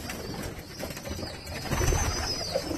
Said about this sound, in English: A lot of healthy birds over here.